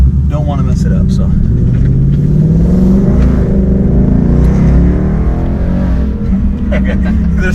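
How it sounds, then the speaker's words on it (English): A 2019 Ford Mustang GT with a 10-speed automatic accelerates in sport mode, its V8 rumbling loud and close as the revs climb, while a person talks over it. "Let's get a feel for sport and see how like it holds the throttles or holds the gears in the automatic."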